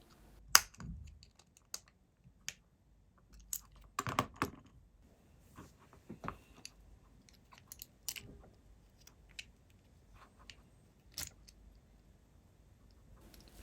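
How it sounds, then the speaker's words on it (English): Small screws being snugged down on a Nintendo Entertainment System console, heard as sparse, close, faint clicks, scrapes and ticks of a screwdriver and parts, scattered irregularly with quiet gaps between. "A quick double check and snug all the screws down."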